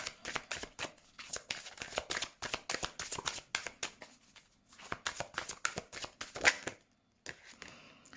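Tarot cards being shuffled before a card draw, with a close, steady run of crisp riffling flutters and slaps that pauses briefly and resumes near the end.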